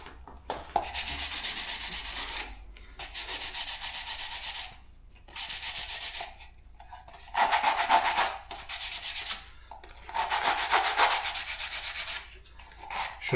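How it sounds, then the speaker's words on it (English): A blade scraping old body filler off a filler spreader during repair of a rusted Peugeot 206 wing: long rasping strokes, about six in steady rhythm with short pauses between, close and fairly loud with no voices. "Use a blade, quick way. Just scrape the old filler off it"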